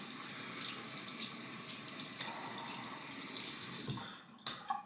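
Tap water runs steadily to wet a synthetic shaving brush at a sink, a close continuous hiss with a brief pause and a couple of splashy bursts near the end.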